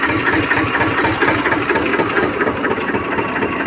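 A 1999 TAFE 25 DI diesel tractor engine running close by on a farm beside a potato field, a loud steady rapid chugging throb with no pauses.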